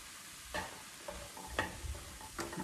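Chicken mince and green beans stir-fried on high heat, a faint sizzle under three or four scraping clatters of a utensil tossing the food in the pan, with no talking.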